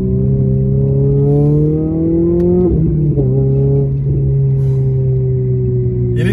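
A Renault Clio 3 RS with the Cup chassis, driven hard through a tight bend: a loud, close engine drone that climbs in pitch, dips briefly with a gear change, then holds a steady strained tone, with no talking.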